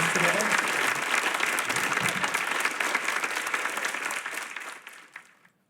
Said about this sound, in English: can you guys give a round of applause for our artists for sharing with us today?